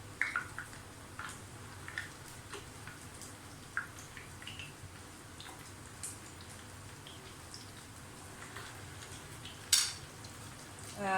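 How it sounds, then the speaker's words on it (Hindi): Potato tikki cutlets shallow frying in hot oil in a pan, a faint steady sizzle with scattered small pops and an occasional utensil clink, quiet and continuous without talk. "आए हम इसे शैलो फ्राई करते हैं।"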